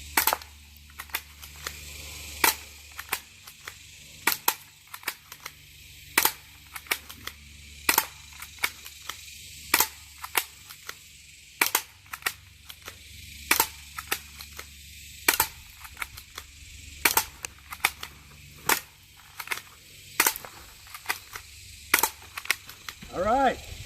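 Sharp, loud gunshots ring out one at a time at an irregular pace, about two dozen over the stretch, during a drill testing whether reaction can beat action in a gunfight.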